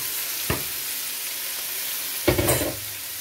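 Scallops stir-frying with celery in a pan, a constant sizzle with a sharp clack near the start and a louder burst of tossing and stirring later.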